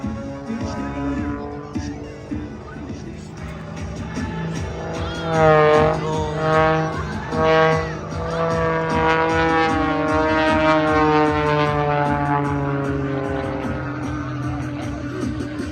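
A two-time air race champion's aerobatic race plane performing at a morning air show in Sacramento, its engine droning and wailing with rising and falling pitch through pulls and turns, loud and sustained with an announcer's voice over a public address.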